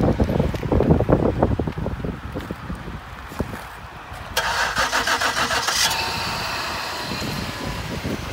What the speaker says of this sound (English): I'm gonna remote start it, so we're gonna just do it right now.